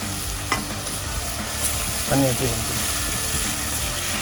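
Crab is stirred into masala in a kadai on a boat at sea for a pepper fry, with a steady sizzle, scraping stirs and a brief voice partway through.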